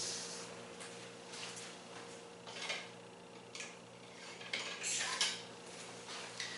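A knife slices through rolled cinnamon bun dough on a foil-covered baking sheet, giving a few soft, scattered cutting and crinkling sounds over a quiet, steady background.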